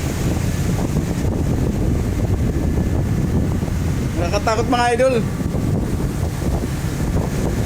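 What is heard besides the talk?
big waves and wind on a ship in the Taiwan Strait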